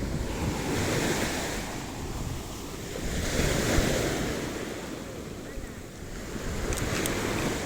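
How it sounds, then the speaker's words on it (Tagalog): Heavy ocean surf roars continuously, swelling and easing in waves, with strong wind buffeting the microphone. "Malakas na ng alon people."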